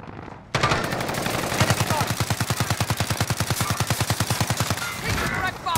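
Rapid, evenly spaced automatic gunfire in a multiplayer shooter, a loud, steady burst of many shots running for about four seconds, with a faint voice nearby.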